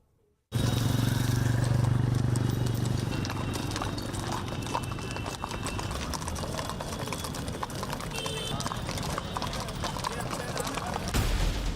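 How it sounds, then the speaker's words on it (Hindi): Mounted police horses at Kumbh Mela, including breeds from America and Britain, with a dense wash of clip-clop hooves and crowd noise outdoors, loud and continuous, with talking mixed into the din. "कुंभ में माउंटेड पुलिस फोर्स के साथ शानदार घोड़ों की फौज आ चुकी है"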